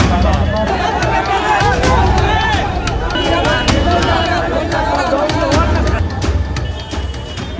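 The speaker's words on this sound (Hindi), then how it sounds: "डंडे से डरा रही पुलिस के सामने आक्रोशित पब्लिक हंगामा मचा रही है।" An angry crowd makes an uproar on a road at the Devi Sarai turn in Deepnagar, Araria, in front of police holding sticks. Dense, loud shouting and babble from many voices runs continuously, with people talking throughout.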